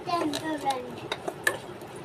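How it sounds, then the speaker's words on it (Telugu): Prawn shells are stirred as they roast in a pan, giving a few scraping strokes and soft clinks of a spoon against the metal over a faint background sizzle, with no talk. "మంచిగా కలుపుతూ ఉండాలి"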